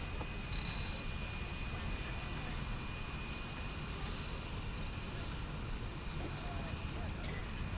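Airplane engines drone inside the cabin during flight, a quiet, steady, unbroken hum with a faint high whine that continues unchanged throughout.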